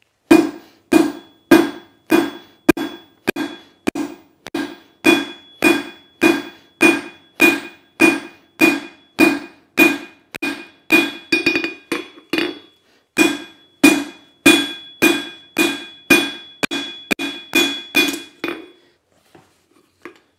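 Hammer blows forging and flattening steel for a ladle on an anvil, a long, close, evenly paced series of sharp ringing strikes with brief pauses, some blows bouncing with a lighter metallic ring.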